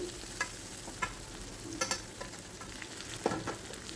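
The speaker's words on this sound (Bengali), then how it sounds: "এবার ভেন্ডিগুলোকে তেলের মধ্যে দিয়ে দেব" Okra fries in a modest amount of hot oil, a quiet steady sizzle with a few light clicks and taps of a spatula stirring, close by.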